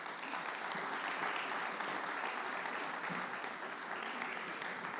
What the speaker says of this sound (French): C'est Marc Basset et Maurice Wolf, sous vos applaudissements.